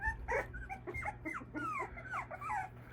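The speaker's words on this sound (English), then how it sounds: "You got a similar bark to Tayo." Indoors, a dog lets out a quick string of high yips and whimpering barks, close and fairly faint over a low steady hum.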